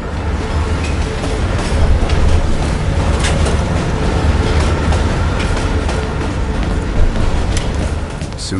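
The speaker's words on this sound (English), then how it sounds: "Train's slowing down." A train runs along rails in the Call of Duty Cold War campaign, a loud continuous rumble with rhythmic clacking and scattered metallic clicks throughout.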